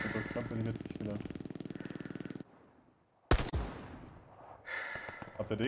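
Rapid gunfire from an M1 carbine in the video game Hell Let Loose, with a fast rhythmic burst of shots, then a pause, then one sharp loud crack and more firing, while a player talks.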